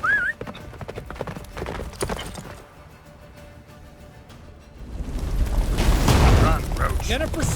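Roach, a horse in The Witcher 3: Wild Hunt, gallops at speed with steady rhythmic hoofbeats, swelling louder toward the end beneath a windy blizzard and game sound effects; someone speaks briefly over the riding.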